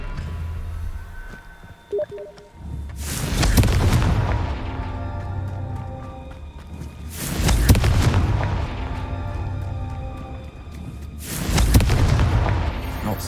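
Confringo spell blasts in Hogwarts Legacy, three loud, booming explosions spaced a few seconds apart, each a sharp burst decaying into a rumbling tail, with quieter ambience between them.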